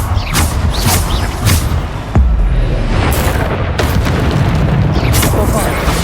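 Bombarda spell in Hogwarts Legacy setting off repeated booming blasts and bursts amid other combat effects, loud and close, with a voice talking over them.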